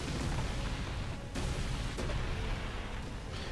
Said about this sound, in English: let's look at that explosion in 4 different angles